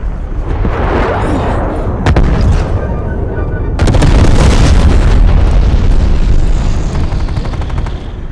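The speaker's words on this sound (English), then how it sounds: "Enemy napalm strike incoming." Napalm strike in Call of Duty: Black Ops Cold War, heavy booming explosions and rumbling fire with crackling bursts, loud and dense throughout, swelling in the middle of the clip.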